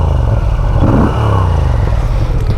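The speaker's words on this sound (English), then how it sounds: "It's a big, throaty engine." A Moto Guzzi V7 Sport's 853cc transverse V engine revs up close, loud and throaty, with a rising then falling rev sweep over rough mechanical clatter.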